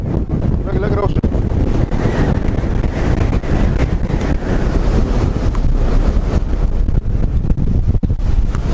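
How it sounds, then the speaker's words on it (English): Strong wind of at least 40 miles an hour buffets a microphone on a boat at sea, a loud constant roar with water sounds beneath, while someone talks over it. "It's so damn windy out here"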